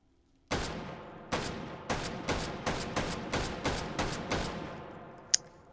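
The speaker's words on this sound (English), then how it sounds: "So yeah, I guess we should do some shooting in it." An M1941 Johnson semi-automatic rifle fires nine sharp, loud shots in a fairly even rhythm, each crack followed by a short ringing decay, with a small metallic ping just after the last shot.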